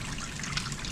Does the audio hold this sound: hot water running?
yes